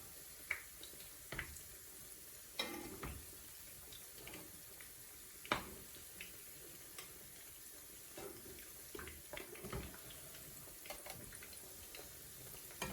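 Potato pakoras fry in a pan with a soft, continuous sizzle, while a slotted spoon and knife turn them over with occasional light taps and clicks against the pan.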